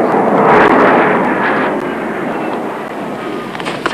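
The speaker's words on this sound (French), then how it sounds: "Il y a quelques avions qui nous embêtent pour chasser la palombe" Propeller or jet airplanes passing overhead in French countryside during wood pigeon hunting, a loud, steady broadband roar that swells early and slowly fades, with no talk.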